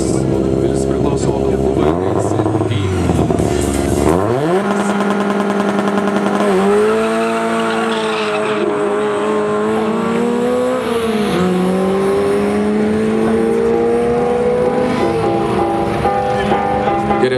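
An Opel Corsa and a Scirocco race each other, engines revving hard and climbing through gears in long rising and falling pitch sweeps, loud and close throughout.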